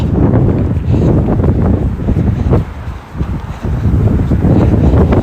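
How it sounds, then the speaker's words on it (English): Strong wind buffets the microphone on an open run along the Washington Mall, with loud, continuous low rumbling gusts, easing briefly in the middle before roaring back. "It's still windy here, but it's not as bad as it was out there."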